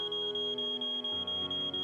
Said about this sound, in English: I'm sure the alarm's still going to go off.